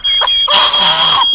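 A shrill, steady smoke detector alarm in the video game My Summer Car beeps continuously, with a burst of noisy sound underneath partway through; close and loud.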